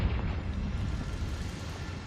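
A Confringo fire spell blasts in Hogwarts Legacy, giving a low, rumbling, muffled explosion that fills the moment and then tails off steadily, heard alone.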